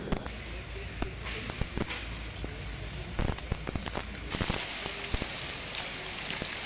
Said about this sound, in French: Dame Pluie va faire une intrusion brutale.